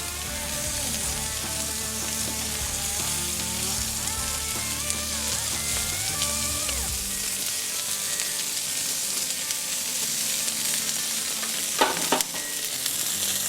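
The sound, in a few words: Wagyu beef belly sizzling on grill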